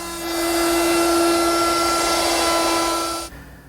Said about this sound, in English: To ease the edges on the top, I'm using a 1/4-inch radius roundover bit.